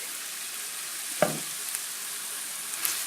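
Worcestershire sauce glugged into lean beef mince browning in a pan, a brief splash at about a second in that flares into a short sizzle, then steady low frying hiss with a couple of faint ticks, no talking.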